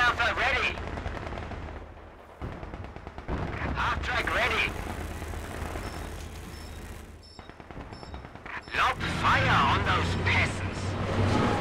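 Machine gun bursts rattle repeatedly through a Company of Heroes battle, mixed with other gunfire and booms, while voices call out over the combat.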